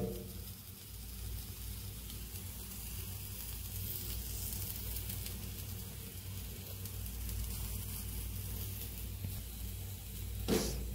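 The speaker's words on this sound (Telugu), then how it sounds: "సో ఆనియన్ అయితే మంచి కలర్లోకి అయితే వస్తే ఈ టైప్ ఆఫ్ బ్రౌన్ కలర్లోకి అయితే రావాలి" Onions sizzle in a pan as they fry until brown for a bundhi curry. The hiss is steady and moderate throughout, with a brief clink near the end.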